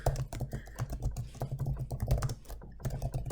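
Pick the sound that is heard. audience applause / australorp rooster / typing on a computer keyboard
typing on a computer keyboard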